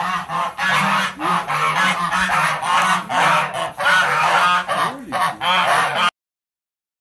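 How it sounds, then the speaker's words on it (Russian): A flock of domestic geese in a Siberian village honks loudly and continuously nearby, overlapping calls crowding together for several seconds before stopping abruptly. "Кролики, барашки, гуси"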